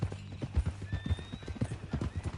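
Hooves clip-clopping in a quick uneven rhythm with a whinny from a horse in Red Dead Redemption 2, close and loud, with a voice talking over it.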